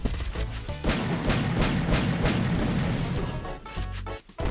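Loud gunfire in Free Fire with booming, crashing impacts in a dense burst, fading out briefly before a final thump.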